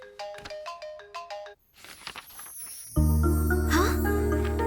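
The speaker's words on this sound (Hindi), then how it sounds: "और तभी फोन की घंटी बजी।" An electronic phone ringtone plays a quick run of repeated chiming notes, followed by a whooshing sweep and a loud sustained tone.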